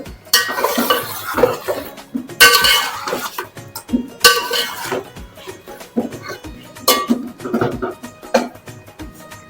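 Ginger, garlic, chili paste and chopped tomatoes being stirred in a pot for beef biryani, with intermittent scraping and clinking of a spoon against metal in short bursts, close and moderately loud, with faint background noise.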